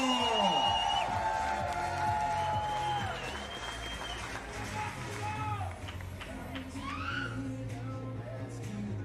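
Stadium crowd applauding and cheering at a Para Pan American recurve men's open archery gold medal match in Santiago, a sustained roar with whoops that fades slightly midway, under steady commentary.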